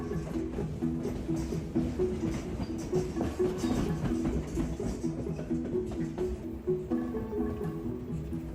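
A scenic railway train rolls smoothly through Alaska, its steady rumble and soft wheel clatter running continuously at moderate loudness.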